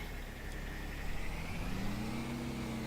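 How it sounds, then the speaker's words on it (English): Tractor engine in the farming video game Farming Simulator 22, a steady mechanical drone that rises in pitch as it revs up in the second half, faint and continuous. "This tractor seems pretty or vehicle seems pretty loud to me."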